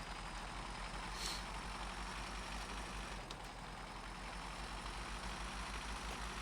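Heavy truck engine in the SnowRunner video game, a quiet steady low drone throughout with faint hiss above and no talk.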